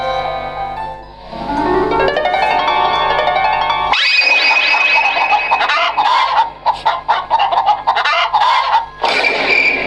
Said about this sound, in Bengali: এক রাতে বুড়ির মুরগিগুলার আওয়াজে ঘুম ভেঙে গেল